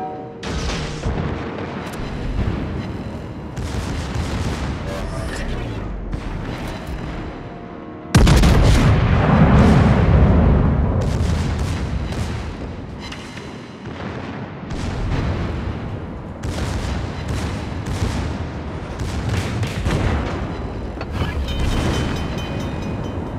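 Main guns of the Japanese battleship Kii fire in World of Warships, heavy booming salvos repeating across the stretch, with one especially loud blast followed by a long rumbling decay and further shots.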